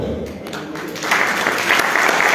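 Audience applause at a formal commemorative ceremony, clapping that swells into a dense, loud burst after a brief quieter start.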